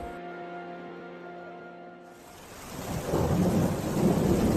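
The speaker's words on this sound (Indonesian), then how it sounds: "gerimis pun mulai turun. Semakin lama semakin lebat diiringi dengan angin yang cukup kencang." A thunderstorm builds from light drizzle into heavy, steady rain driven by strong wind, with a low thunder rumble, the downpour growing louder and denser over the last half.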